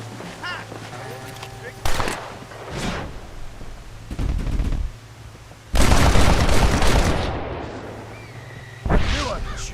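Gunfire in the Western video game Red Dead Redemption: several loud, sharp shots with echoing tails, separated by pauses, over a low game background hum.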